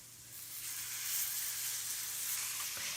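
A steady, fairly quiet hiss of milk being poured gradually into a hot roux, sizzling continuously for a few seconds with no voices.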